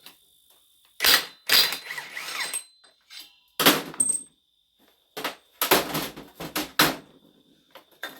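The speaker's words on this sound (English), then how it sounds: "I ought to take that pulley off just to make my life easier when this all comes apart" A pulley comes off a 6 volt alternator with several loud, close metallic clanks and scrapes of tools in separate bursts, broken by short pauses.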